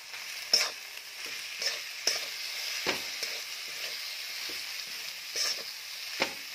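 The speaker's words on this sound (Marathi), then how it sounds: "आता याच्यात आपण ज्या शेंगा परतून घेतलेल्या आहेत त्या घालायच्या" Sautéed beans are stirred and fried in a pan, with a faint continuous sizzle under irregular spatula scrapes and clinks roughly every second. The sound is close and soft, and no one speaks.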